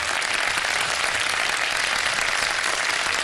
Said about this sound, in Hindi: तीनों के लिए तालियां बजा दीजिए एक दफा फिर से।